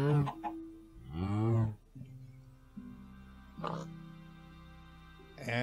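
A chicken clucking inside a nesting pen in Minecraft's Sky Factory 3 modpack, with short, soft clucks and squawks spaced out over a low steady background hum.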